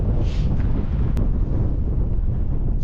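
Strong gale-force wind buffets a microphone while cycling outdoors in Gansu, a loud continuous roaring rumble with no break and no voices.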